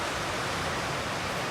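Lake Superior water along a shore trail at Pictured Rocks National Lakeshore, a steady broadband wash of surf close by, continuous and even with no talking.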